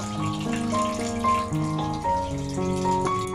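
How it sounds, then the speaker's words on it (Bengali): Water poured into a pan of spiced carp curry as it cooks, a continuous gushing pour with melodic background music playing underneath. "এবার জল দিয়ে দেব জল দিয়ে দেব"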